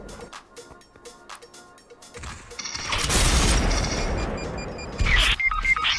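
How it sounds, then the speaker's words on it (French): A grenade blast in a VR shooter game resembling Fortnite, a broad rumbling burst that swells and lingers for a few seconds, followed by another sharp loud hit. "Oh, j'ai pris une grenade!"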